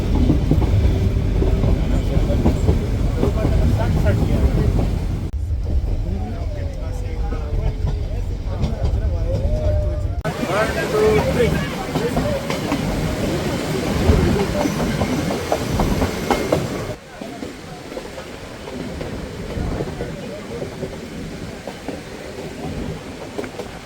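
The Nilgiri toy train between Coonoor and Ooty rumbles steadily along the rails for a long stretch, loud and continuous with rhythmic clatter, as voices speak in the background.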